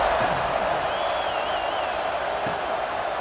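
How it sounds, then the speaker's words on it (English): Stadium crowd noise in EA Sports College Football 26 fills the scene as a steady, dense, fairly loud murmur, with a faint whistle-like tone briefly rising above it. "this crowd is buzzing after that last score."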